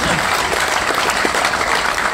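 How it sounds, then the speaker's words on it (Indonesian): Audience at a university professorial inauguration ceremony clapping in loud, steady applause throughout, dense and sustained with no pauses. "tepuk tangan buat ekonomi ya"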